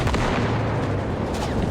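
Gunfire in the War Thunder infantry mode, a dense continuous barrage of booming shots and rumble filling the whole moment at steady loudness, with no talk over it.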